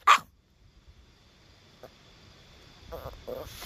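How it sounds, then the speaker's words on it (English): A dog gives one sharp, close bark at the start, then the scene goes quiet apart from faint rustles before a couple of softer yips or whines near the end. "Can you quit barking now?"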